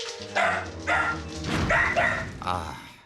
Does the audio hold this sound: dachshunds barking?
yes